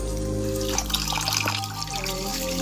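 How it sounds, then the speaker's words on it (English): Rice being washed in water, sloshing and trickling close by over a steady low hum; no one speaks. "I'm washing my rice."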